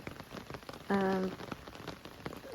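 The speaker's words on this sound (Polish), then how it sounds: "Ostatnio ciągle leje." Steady heavy rain pours down on a garden, a dense, continuous patter close by, with a brief tonal hum cutting in briefly partway through.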